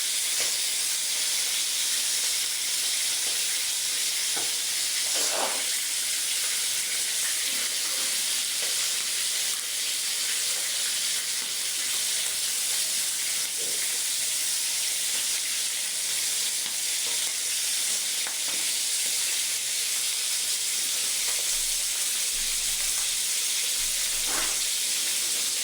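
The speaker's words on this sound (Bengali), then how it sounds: "এখন আমি লাল লাল করে ভেজে নেবো" Bata fish frying in oil in a pan, a steady broadband sizzle and hiss running throughout, with a few brief scraping clicks as the pieces are turned over.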